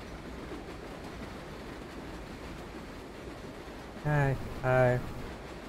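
Subway train rumble inside the World of Subways 4 game, number 7 local line toward Main Street Flushing, steady underfloor noise with two short electronic door-chime tones near the end.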